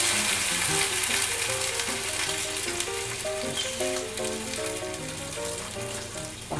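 Water added to a pan of Chinese-style braised napa cabbage sizzles and crackles steadily up close, with light background music and no talking.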